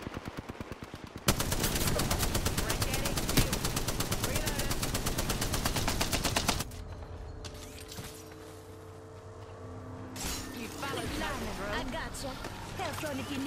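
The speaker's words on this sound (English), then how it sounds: "I'm opening fire." Rapid automatic gunfire in the battle royale game Apex Legends, a loud sustained burst of dense shots for several seconds, then a quieter stretch with engine-like hum and scattered sounds, with voices talking throughout.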